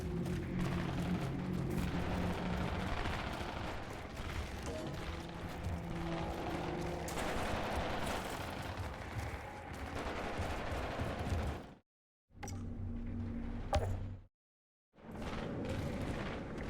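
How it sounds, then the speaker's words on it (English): Shotgun blasts in the Outriders shooter game, loud and repeated amid dense gunfire and booming combat noise, with two brief dropouts to silence near the end. "Now we got a decent shotgun."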